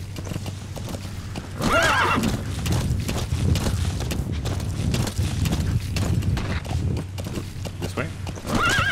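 Hooves clip-clop at a fast gallop with a horse whinnying near the start and end, under busy game sounds and a voice, in Metal Gear Solid V: The Phantom Pain.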